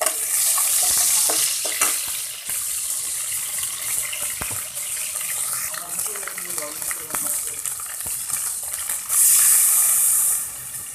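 Garlic paste and ground spices frying and being stirred in a pan, a loud, hissing sizzle that swells and fades, with scraping and clattering, a voice talking at times.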